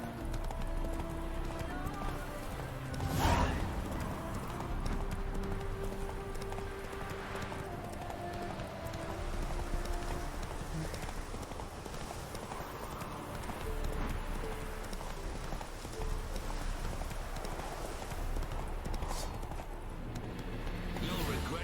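Roach, the horse in the Witcher 3 video game, gallops at a steady rapid clip-clop, hoofbeats loud and continuous under game music and ambience, with a voice speaking briefly.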